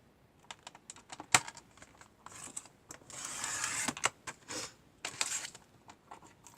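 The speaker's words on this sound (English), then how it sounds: "So I'm going to trim this whole piece to 8 1/4 inches." Paper panel for a junk journal cover being trimmed on a cutter, a series of faint, close clicks, scrapes and slicing swishes, irregular and quiet, with no talking.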